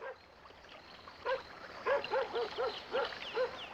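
A dog gives a run of short, high whimpering yelps, about seven in a steady rhythm, fairly close but soft over a faint background hum.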